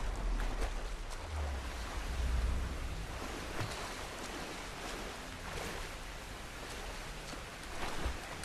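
A waterfall in the Tomb Raider video game, a continuous broad rushing roar of falling water that holds steady throughout with slight swells.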